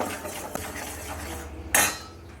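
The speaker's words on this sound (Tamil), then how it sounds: "இப்போ வந்து இந்த கடல மாவு போட்டுக்கலாம் இந்த நெய்லேயே நல்லா வறுக்க வறுத்துக்கலாம்" Gram flour roasting in ghee in a pan for sweet potato payasam, with a spoon scraping and clinking against the pan, then a brighter scrape near the end; no talk.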